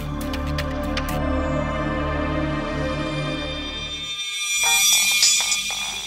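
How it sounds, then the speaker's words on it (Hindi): A mobile phone rings nearby in a tense crime-drama scene, its repeating electronic ringtone pattern sounding clearly alone, with a short pause before a brighter, louder ring pattern resumes. "सर फोन की आवाज तो उसी तरफ से आ रही।"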